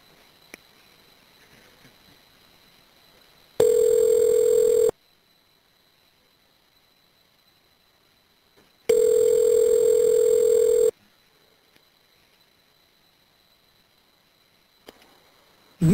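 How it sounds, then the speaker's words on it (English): Number being dialed on an Evercom prison calling-card line: two long, loud steady electronic tones separated by near-silence, with faint line hiss between them and a third tone just starting at the end. "The number is now being dialed."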